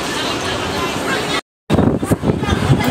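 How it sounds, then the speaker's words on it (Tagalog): Strong wind roars and buffets the microphone in a continuous rush, briefly cutting out, with faint voices beneath the gusts, in Hong Kong. "Ang lakas ng hangin."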